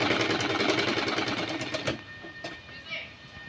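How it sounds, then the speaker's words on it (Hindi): A sewing machine runs fast and steady, stitching in a round curve along a fabric edge, then stops after about two seconds, leaving only faint handling noises. "इस तरह इसी किनारे किनारे की साइड पे आपको सिलाई लगानी है गोल राउंड में"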